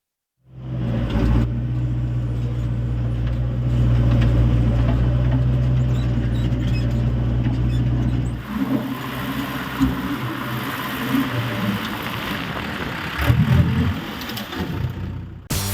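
A farm tractor engine runs steadily at Karadimadai in Coimbatore district as farmers use it to drive wild elephants out of cropland, a loud continuous mid-pitched drone with a shift in tone and some rougher noise partway through.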